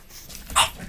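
A French Bulldog puppy gives a single short, sharp bark, close and fairly loud against quiet room tone.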